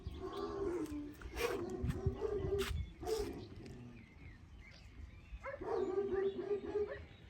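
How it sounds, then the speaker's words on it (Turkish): A dog barks several times at some distance, sharp separate barks with pauses and an outdoor hush between them, near a Kangal dog. "Bakın şu aşağıda köpek avlıyor"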